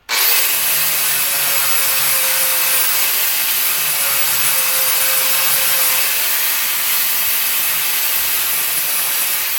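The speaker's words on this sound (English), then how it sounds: "Might just touch this up with the grinder to make sure it's good and flat." Grinder smoothing freshly cut metal flat for a cowboy fire stand, a steady, loud, close hiss and whine that holds unbroken from start to finish, with no talk.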